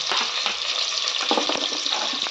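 Chopped onions, chillies, carrots, capsicum and beetroot frying in a pan while being stirred, producing a loud, dense, hissing sizzle with rustling stirring strokes and no speech.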